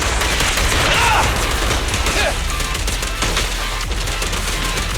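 Gunfire in the action video game Zenless Zone Zero: rapid, dense bursts of shots layered over loud game effects and music, continuous and close throughout.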